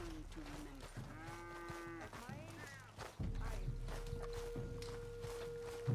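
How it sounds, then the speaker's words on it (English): A cow lets out a long, clear moo, then a second rising one, near and fairly loud amid hoof and footstep sounds on a ranch setting in Red Dead Redemption 2, with a faint steady hum underneath. "Oh, cow."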